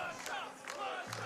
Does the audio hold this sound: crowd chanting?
yes